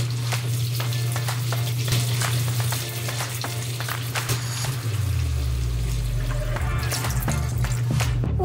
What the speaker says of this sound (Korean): 이제 물을 넣어줍니다